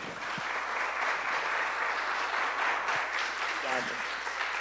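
Audience at a Portuguese-language talk applauds with steady, dense clapping, moderately loud, while a few faint voices murmur underneath.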